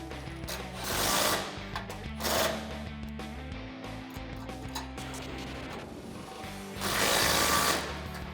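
Ratcheting of a 16mm socket wrench tightening the bracket bolts of a stainless steel Barricade 3.5-inch bull bar on a Toyota Tacoma, a steady clicking run with two louder bursts of effort, close up and with no talk.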